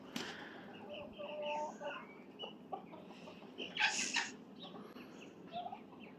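Chickens and young roosters cluck faintly in a farmyard flock that also holds a turkey, with scattered soft calls and one brief, sharper squawk over background noise.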